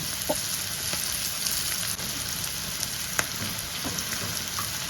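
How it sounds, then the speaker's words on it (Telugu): Potatoes with fenugreek leaves frying in a pan make a continuous loud sizzle with scattered crackles and occasional stirring taps, and no one speaks. "ఒకసారి చూడండి ఎలా ఎర్రగైతే వేగుతున్నాయో ఇలా వేగాలి"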